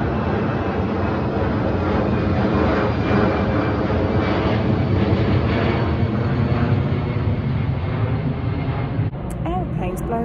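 A steady, broad roar of an airplane passing overhead fills the whole stretch, loud and continuous, before easing off near the end.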